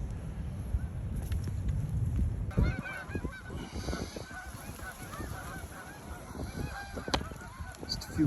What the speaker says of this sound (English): Just a few geese.